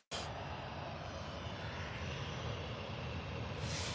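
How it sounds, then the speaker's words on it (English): A Jet2 Boeing 737 departs Birmingham Airport, its engines giving a loud, steady, broadband roar that holds evenly throughout with no voices. "Jet2 737 heading out."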